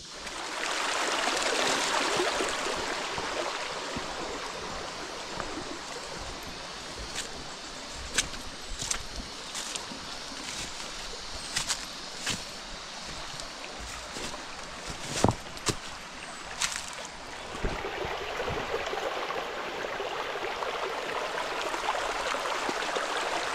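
A mountain stream on a steep hillside rushes in a steady, broadband wash, with a few sharp knocks and clicks near the middle over the constant flow.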